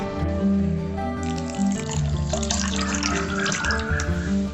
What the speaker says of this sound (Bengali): এবার এটাকে আধ ঘন্টার জন্য আমি জল দিয়ে ভিজিয়ে রাখবো